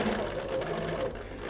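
A sewing machine stitches pieced quilt fabric for a star block right up to a straight pin, a steady close mechanical whir running continuously before easing off slightly at the end.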